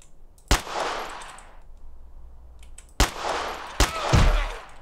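Gunfire in the zombie survival game DayZ: three sharp, loud shots spaced apart, each followed by a reverberating tail, the last two close together.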